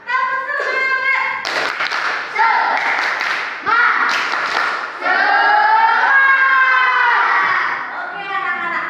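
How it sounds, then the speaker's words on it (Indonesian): A primary school class performs the 'tepuk semangat' spirit clap, with sharp bursts of rhythmic hand clapping interleaved with children's loud chanted voices in a lively patterned sequence. "Tepuk semangat."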